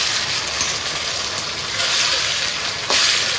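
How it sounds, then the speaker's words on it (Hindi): Onion with ginger garlic paste fries and sizzles in a pan for a desi-style chicken fry, a steady hiss with scraping stirring bursts near the end, close and moderately loud, with no talking. "अब हम इसमें जो है ये अदरक लहसुन का पेस्ट डाल रहे हैं, 2 चम्मच डालेंगे बस, और इसको जो है अच्छे से चलाएंगे मिक्स करके।"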